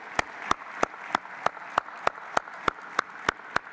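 Audience at a conference session clapping for the moderator in a slow, even rhythm of about a dozen sharp, evenly spaced claps over a low hum of the room.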